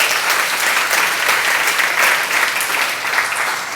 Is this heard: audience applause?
yes